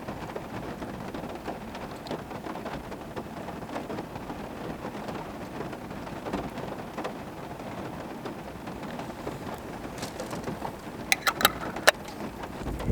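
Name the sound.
rain falling on truck camp during stormy night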